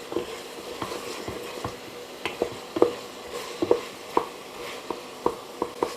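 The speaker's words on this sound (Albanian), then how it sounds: "Tash do hedhim domaten, ja 2 domate mesatare." Two medium tomatoes go into a pan of frying meat and onion, with a low sizzle under repeated sharp taps and stirring knocks of a utensil against the pan, close and without talk.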